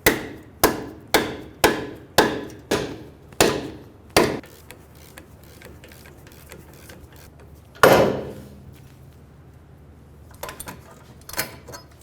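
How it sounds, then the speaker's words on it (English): A ball joint removal tool is struck while separating the front lower control arm ball joint from the knuckle on a 2003-2008 Honda Pilot: eight sharp metallic blows in quick even rhythm, a pause, one heavy hit, then a few lighter knocks. "I'm going to be using a ball joint removal tool."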